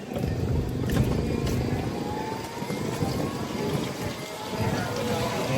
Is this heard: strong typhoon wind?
yes